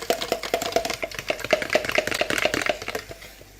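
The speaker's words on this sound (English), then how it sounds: "Just going to whisk it with a fork." Fork whisking egg in a bowl, a fast steady rhythm of bright clicking taps close by, roughly four to five strokes a second, with no talking.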